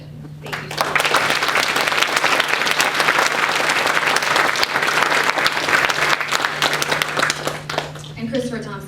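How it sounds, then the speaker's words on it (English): Sustained audience applause fills a charity organization event, a dense steady wash of clapping lasting several seconds before tapering as a voice begins speaking at the end. "give a very grateful round of applause to people who have given their heart"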